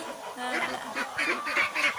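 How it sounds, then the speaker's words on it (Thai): Ducklings quacking and honking in a busy, continuous chorus close by at feeding, with a voice speaking over the birds. "อันนี้คือ เป็ดนะคะ"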